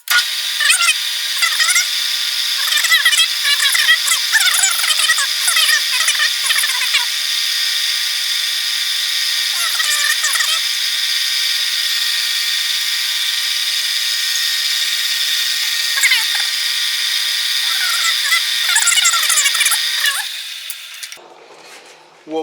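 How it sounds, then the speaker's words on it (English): A small drill bit bores a simple hole for a refrigeration capillary tube on a lathe, during a DIY beer cooler repair, giving a steady, close, high mechanical whine that runs almost unbroken, with someone talking over the early part. "We're just going to drill a simple little hole in there."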